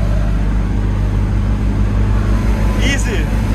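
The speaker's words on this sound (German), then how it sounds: "So, jetzt riskiere ich's. Ich überhole mit dem Moped-Auto" A Ligier X-Too microcar, a small moped car, overtakes a tractor on the road, its engine droning steadily and close under constant road and wind noise, with a brief faint high squeak near the end.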